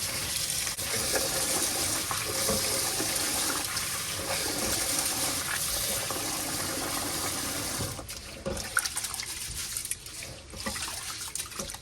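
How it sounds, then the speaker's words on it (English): Rice being rinsed under running water to wash out the starch, 3.5 pounds of it for Jamaican rice and peas; a steady close gush of water pours and splashes for about eight seconds, then turns choppier with swishing and sloshing. "Now we're going to wash out the starch out the rice."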